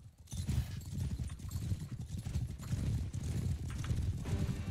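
Cavalry hooves pound continuously in a Mount and Blade: Bannerlord battle charge, a dense, loud rumble of many galloping horses with no break and no speech.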